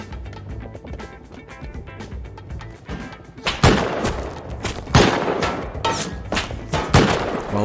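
Gunfire in the survival game Rust during a base raid defence, quieter scattered shots at first, then loud, rapid bursts of close weapon fire with heavy thumps.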